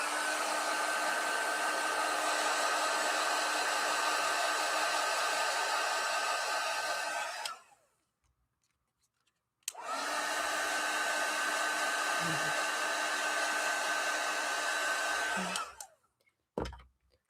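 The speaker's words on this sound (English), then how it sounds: "grab out the heat gun" A heat gun blows hot air over a craft card, a loud steady whooshing roar running for several seconds, cutting off briefly, then starting again for another long stretch before stopping.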